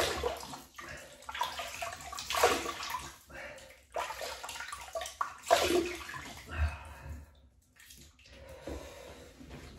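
Water splashes and drips close by at a bathroom sink as a face is wetted before a wet shave with a stainless steel double-edge razor, coming in irregular bursts of splashing with quieter gaps between.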